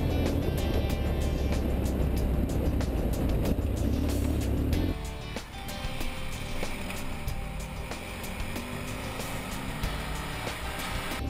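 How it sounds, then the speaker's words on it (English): Two adventure motorcycles, a BMW 1150GS with a Remus exhaust and a BMW F800GS on its stock exhaust, riding trails; a loud, steady engine drone close by that drops to a lower, rougher running sound partway through, with no talk. "here we hear Chris with that Remus pipe on the 1150GS and the sewing machine F800 stock pipe."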